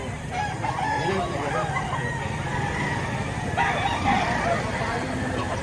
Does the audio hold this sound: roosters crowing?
yes